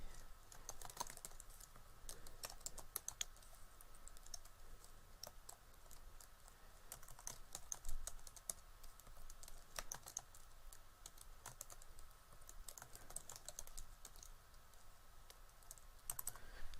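Steady, quiet typing on a computer keyboard while entering names into a Microsoft Excel salary sheet, with rapid clicking keystrokes throughout and no speech.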